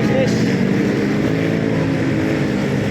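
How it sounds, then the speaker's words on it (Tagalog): A borrowed motorcycle cruises along a road, its engine and wind noise forming a steady loud drone heard up close throughout. "Gamit ko po mga ka-business yung motor ni Daryl."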